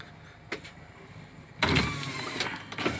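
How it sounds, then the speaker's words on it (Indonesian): A car's left front and rear power windows run in turn, a soft electric motor whine rising close by after a brief click, steady for over a second. "ini untuk power windows kiri ya kiri depan kiri belakang"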